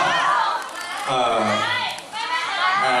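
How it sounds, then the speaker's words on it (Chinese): Audience at a fan meeting for an actor in Beijing, clamoring and shouting together in loud overlapping young voices that swell, dip briefly, and surge again. "停一下，不要起哄。"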